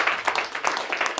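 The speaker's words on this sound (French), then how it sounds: "applaudissez d'abord vous-même pour les réponses" Short burst of audience applause at a francophone stand-up comedy show, a dense patter of clapping hands that rises and falls in quick waves, fairly close and moderately loud.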